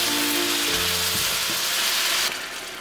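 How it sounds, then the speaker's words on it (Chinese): Soy sauce and vinegar drizzled along the hot wok edge over chicken for Zaozhuang spicy chicken, producing a loud, dense, steady sizzle with a faint tonal ring, easing slightly near the end. "酱油跟醋都要顺着锅边淋入"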